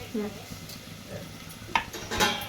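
Onion and tomato mixture with a little coriander leaves being stirred in a pan at home, a few soft scraping strokes and clinks of a utensil against the pan over a faint sizzle, fairly quiet.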